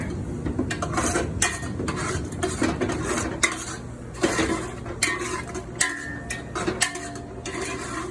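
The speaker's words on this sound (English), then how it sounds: "Get that all stirred together." A spoon stirs a sauce with dill in a pot, scraping and clinking against the metal in an irregular rhythm of close, sharp taps with a faint sizzle underneath.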